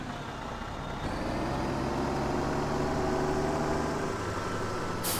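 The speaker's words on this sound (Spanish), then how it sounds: "Me trae un tractor." A tractor engine idles in Farming Simulator 2017, a steady low diesel rumble that grows slightly louder after the first second and holds evenly, with no talking.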